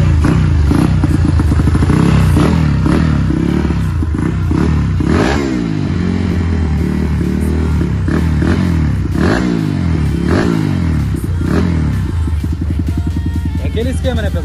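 A Honda Twister motorcycle fitted with a 95mm engine and set up for the track revs hard and close, its engine note rising and falling in repeated loud sweeps with clattering mechanical noise throughout.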